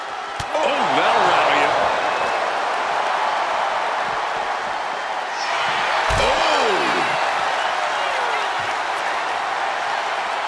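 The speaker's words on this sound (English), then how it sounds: "listen to this capacity crowd" A packed arena crowd roars continuously in the WWE 2K26 wrestling game, during a CM Punk versus The Fiend cell match, with loud sustained cheering and a few sharp slams rising over the din.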